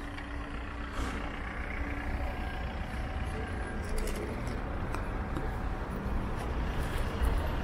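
Steady rumble of heavy rush hour traffic on Front Street in downtown Toronto, with trucks and buses idling and rolling by, a faint brake hiss, and light jingling near the microphone.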